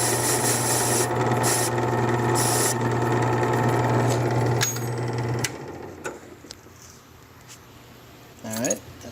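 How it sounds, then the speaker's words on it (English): Brass key being deburred against a grinding wheel in a key-cutting shop, a loud steady rasping whir for about five seconds, then the wheel spins down into quiet with a brief clatter near the end. "come over here to the wheel. You want to clean any pieces of brass on the edges there so it's like deburred."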